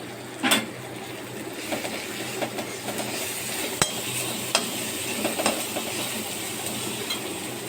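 Eggs sizzle in a pan of hot tempering oil with turmeric, salt and chili while a pasta dish is being made. A steady close frying hiss runs throughout, with a few sharper pops and crackles.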